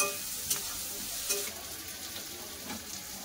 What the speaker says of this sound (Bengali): লবণ দিয়ে দিয়ে একটু নেড়ে দিই।